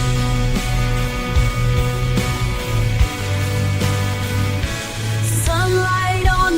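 AI-generated song track made with CloneVoice.ai plays steadily: a produced music bed with a repeating bass and melodic lines, loud and continuous throughout.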